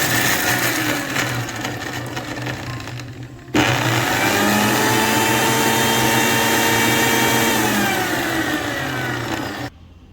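A kitchen blender pulses onion and pepper for accra bean batter, whirring in one long sustained burst after a shorter run, loud and close, without any talk.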